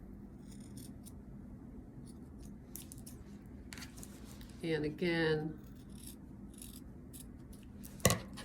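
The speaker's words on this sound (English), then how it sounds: "So I'm just going to use scissors." Scissors nipping off the fabric corners of a quilted placemat, a brief close snip-and-rub near the middle and a sharp click later, with a voice speaking briefly in the clip.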